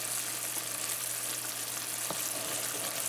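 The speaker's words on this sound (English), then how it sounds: "You don't have to keep stirring all the time because it's boiling." Steady bubbling and faint sizzling from sugar syrup boiling in a pot on the stove, continuous and close, with a single soft knock partway through.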